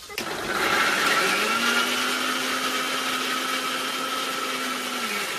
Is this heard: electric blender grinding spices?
yes